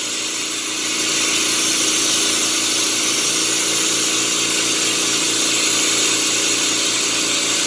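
Two 10-litre-per-minute oxygen concentrators feed a glass-melting torch, giving a steady, loud rushing hiss with a faint mechanical pulse underneath, continuous throughout with no voices.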